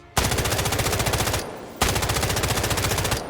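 An automatic weapon in the video game Delta Force fires two long, rapid bursts, each about a second and a half of loud, evenly spaced shots, separated by a short pause.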